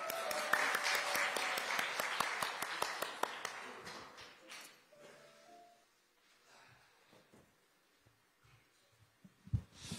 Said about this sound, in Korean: 우리 정청래 최고위원님 박수로 맞이해 주시기 바랍니다.